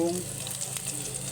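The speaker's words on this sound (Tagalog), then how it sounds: "Gigisa na po natin" Food sizzles and fries briefly in a frying pan during sautéing, a close crackling hiss heard alone.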